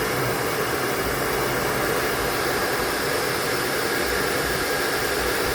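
A hair blower or heat gun blows hot air to loosen an old, stubborn sticker, giving a steady, close, unbroken whooshing roar throughout with no talking.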